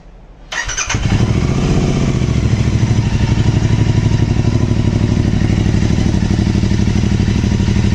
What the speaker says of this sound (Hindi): इसको फायर करेंगे बाइक को एक बार इस एग्जॉस्ट के साथ में और देखते हैं कि ये कैसा साउंड करता है।